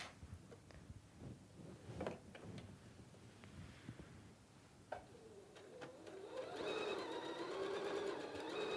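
A Pfaff Passport 3.0 sewing machine with a buttonhole foot stitches at close range, first in quiet, uneven mechanical taps and clicks, then building into a steadier whirring hum of rapid stitching.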